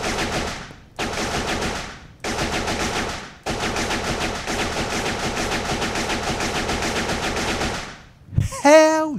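Rapid automatic gunfire in the video game Shoot That Pizza rattles in long, loud bursts broken by short pauses, ending in a rising electronic tone.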